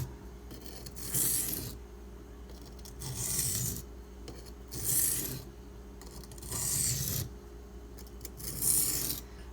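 A lockback knife edge is sharpened with back-and-forth strokes on a whetstone, giving soft, rhythmic rasping scrapes, five steady passes at a close, quiet level.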